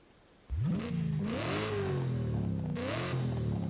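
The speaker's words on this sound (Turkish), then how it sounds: "bir nefes alma sesi var arabada bak" A twin-turbo engine of a modified 2005 BMW M3 in Forza Horizon 5 roars to life and revs up twice, pitch climbing and falling back each time, loud and close with no voices.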